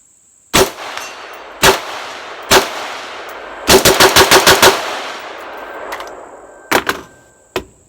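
A real firearm fitted with airsoft parts fires loud single gunshots with sharp metallic clangs, then a rapid burst of about six shots, followed by a few more scattered shots, close and alone.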